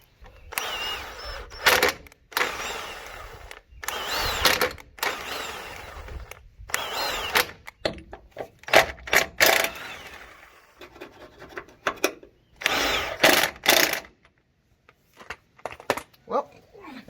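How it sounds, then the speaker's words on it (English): A cordless power screwdriver scrapes old coating off a Duramax 4x4 axle part in bursts of gritty, whirring grinding, interrupted by short pauses and close speech. "I just decided to use my screwdriver to do this rather than wire wheel it."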